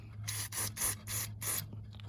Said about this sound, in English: Spray it off really good and let it dry